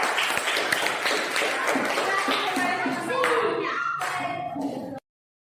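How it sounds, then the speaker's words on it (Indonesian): A classroom applauds group one after its presentation: a burst of close, dense clapping from many hands, mixed with voices and shuffling, that thins out toward the end and then stops abruptly. "Oke, kasih aplaus dulu untuk kelompok satu."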